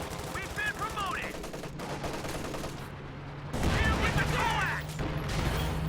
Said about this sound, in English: Ooh, nice grenade.